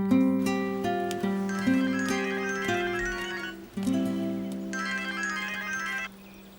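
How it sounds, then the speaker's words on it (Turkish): A phone plays its melodic ringtone, a bright repeating electronic tune heard clearly and alone, cycling through its phrases before cutting off. "Çalıyor vallahi."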